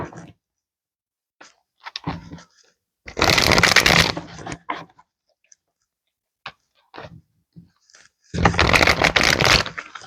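A deck of playing cards shuffled by hand in two loud riffling bursts, each about a second long, with quieter card handling and taps between them and no talking.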